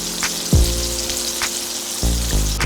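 Sausage browns in a frying pan with a steady close crackling sizzle, punctuated by a few sharp knocks, under a low hum that cuts in and out.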